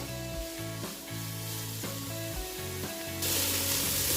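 Sliced onions with salt sauté in a pan for fish biryani, a continuous sizzle under steady low tonal hum, with a hiss that swells louder near the end.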